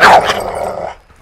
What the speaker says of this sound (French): C'est le chien dans la chambre.